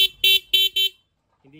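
Four short, bright motorcycle horn beeps from a Euro 150 in a quick uneven burst, loud and close, followed by a pause and a faint tone at the end.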